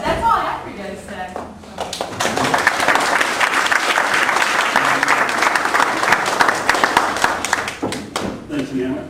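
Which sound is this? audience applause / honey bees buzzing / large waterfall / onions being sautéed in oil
audience applause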